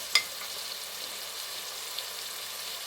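Curry powder and onions browning in a pan for a chickpea curry give a steady, soft sizzle and fry hiss throughout, with a brief utensil tap near the start and no talking.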